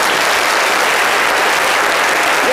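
An audience claps loudly and continuously for a singer, a dense, even wash of applause with no voices over it.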